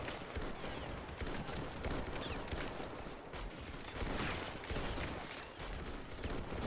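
Dense, continuous gunfire and volleys from a Men of War WW1 mod battle in 1916 Dublin during the Easter Rising, with troops firing on a building, a steady, rather distant crackle of shots with no voices over it.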